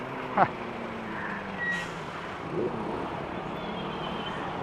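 Trucks rumble in heavy road traffic on a street, a steady low drone around a moving motorbike, with brief horn-like tones and a faint voice now and then.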